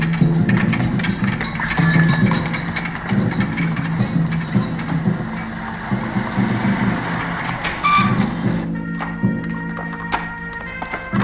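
A Scotland Yard car drives through streets in a dramatized scene, engine rumble running throughout with mechanical clunks and rattles, then a sharper knock near the end.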